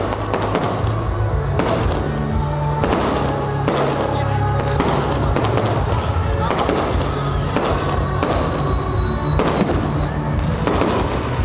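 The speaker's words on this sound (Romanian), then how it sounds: "După ora 24 veți putea urmări spectacolul de artificii." A fireworks show after midnight crackles and booms continuously, with many sharp bursts and thuds one after another over a dense, loud crackle and a faint background murmur.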